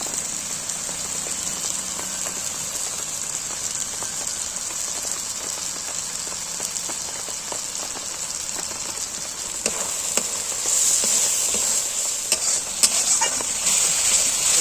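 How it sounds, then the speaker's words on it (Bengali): Raw prawns fry in a spiced masala, a continuous fine crackling sizzle like light rain, close and even, with occasional stirring scrapes growing busier toward the end. "মশলাটা কষা হয়ে গেছে, এই সময় আমি কাঁচা যে চিংড়ি মাছগুলো ওইগুলো দিয়ে দিচ্ছি।"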